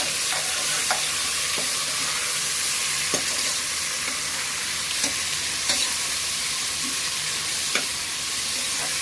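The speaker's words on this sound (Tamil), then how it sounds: "இப்போ வெங்காயம் போடுறாங்க." Onions frying in a pot for chicken biryani give a steady, loud sizzle throughout, with occasional clicks and scrapes of a utensil stirring them.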